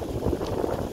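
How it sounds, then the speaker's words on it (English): Wind at a beach in Nayarit, Mexico gusts in a steady low rumble, buffeting against the microphone in a brief, continuous outdoor roar. "It's got quite windy."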